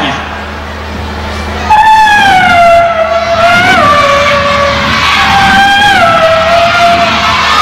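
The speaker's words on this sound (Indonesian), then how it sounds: "Mobil balap." A race car sound made live by a storyteller's voice, a loud rising and falling engine wail with a squealing skid-like bend in pitch, lasting several seconds before an audience of schoolchildren.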